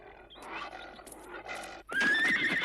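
A horse neighs loudly and close by in a dramatized Western scene, a rising shrill whinny that breaks off and then returns stronger, with no talk over it.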